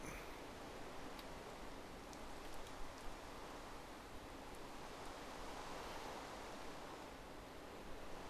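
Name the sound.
rain falling in Minecraft video game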